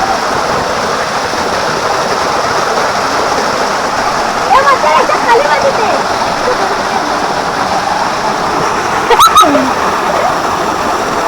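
A waterfall in a Konkan village roars in a loud, steady rush of falling water throughout, with faint voices briefly audible under it partway through.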